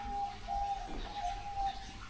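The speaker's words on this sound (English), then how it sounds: "it's the doves cooing at the top there" Diamond doves coo in an aviary at a seal sanctuary in Skegness, a soft low repeated cooing heard close over a hum of background noise.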